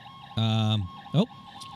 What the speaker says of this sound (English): Got the sirens in the background